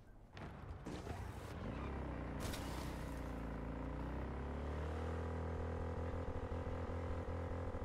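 Motorcycle engine in the video game Cyberpunk 2077 revving up from a brief start into a loud, sustained drone, the pitch climbing then holding steady at high throttle for several seconds with no talking.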